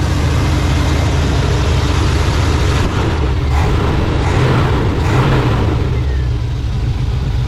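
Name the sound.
1987 GMC Suburban engine running after carburetor adjustment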